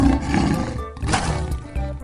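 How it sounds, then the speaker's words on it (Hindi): A lion roars inside a cave, a loud, rough burst that swells and recedes in a couple of surges, heard alone without talk. "और शेर गरज उठा।"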